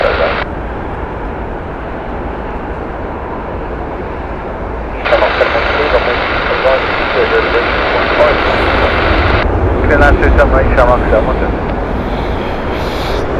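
An airliner on the Cork flight at Heathrow Airport gives off a loud, steady engine roar that swells partway through and stays strong, with no talk over it.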